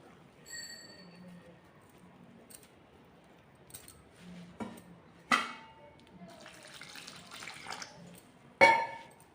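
Quiet kitchen sounds: a brief trickle of water poured into gram flour and intermittent clinks and scrapes of a spoon mixing the batter in a bowl, with sharp knocks.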